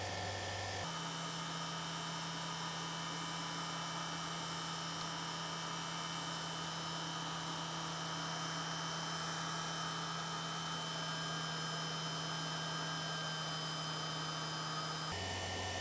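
Laboratory turbine running at speed with brake applied, a steady whining hum with a strong constant tone that holds throughout, quiet and continuous with no voices.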